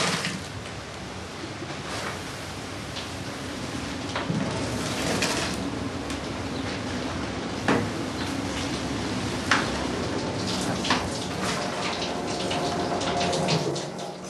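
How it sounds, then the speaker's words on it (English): Hot wax-water mixture from beeswax extraction pours steadily through cloth in a fruit press into a wooden tub, a continuous wet rush with occasional soft knocks and clinks. "the hot wax-water mixture runs into a wooden tub"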